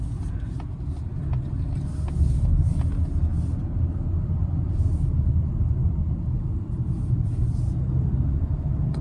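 A 2024 Mazda CX-90 plug-in hybrid rolls along the road with a steady, low rumble of tires and drivetrain heard from inside. Faint ticks and light hiss sit above the constant drone, with no talking.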